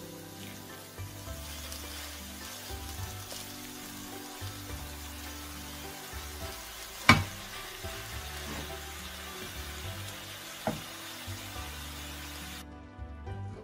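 Half a kilo of minced meat frying in a pan over medium heat, a low continuous sizzle with occasional sharp clinks of a utensil against the pan.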